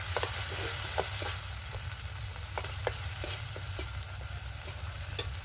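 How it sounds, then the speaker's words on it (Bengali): A spice paste with a pinch of chili powder and a splash of water fries in a pan, a constant close sizzle broken by regular scraping stirs of the spoon. "ভালো করে মশলাটা কষিয়ে নেব।"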